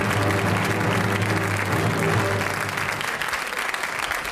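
Studio audience applause on a German TV comedy show, a loud, steady wash of clapping that holds for several seconds before thinning slightly at the end, with no talking over it.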